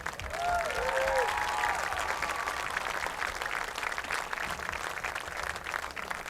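Audience applause after a Knox College Prairie Fire football game at Eureka: broad, steady crowd clapping at moderate distance, with a brief whistle or cheer near the start, continuing evenly throughout.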